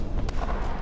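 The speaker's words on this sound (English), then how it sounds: "Oh, yep, the rocket artillery fires as well." Rocket artillery launching in the real-time strategy game Dust Front RTS: a single brief muffled boom-like burst over a steady low rumble of battlefield noise, with no voices.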